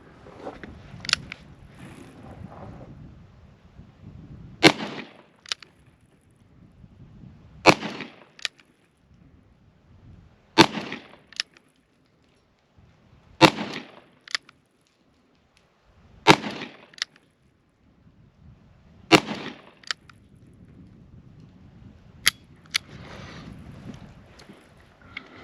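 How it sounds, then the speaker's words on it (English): Colt Anaconda .44 revolver firing .44 Special rounds loaded with 250-grain Keith-style bullets, eight loud, sharp shots spaced a few seconds apart outdoors, each cracking out and decaying into faint background noise. "this time we're shooting the Colt Anaconda 44, but I am shooting 44 specials"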